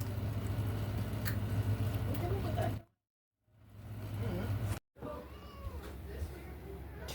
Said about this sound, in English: The cat came out